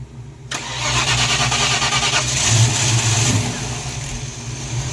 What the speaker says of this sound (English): It's firing and then immediately stalling.